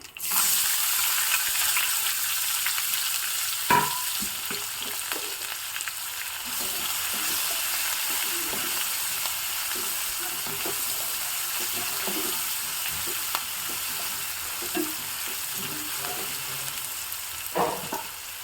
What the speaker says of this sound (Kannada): ಈಗ ಇದಕ್ಕೆ ಹೆಚ್ಚಿರುವಂತಹ ಒಂದು ಮೀಡಿಯಂ ಸೈಜಿನ ಈರುಳ್ಳಿ ಹಾಕ್ತಾ ಇದ್ದೀನಿ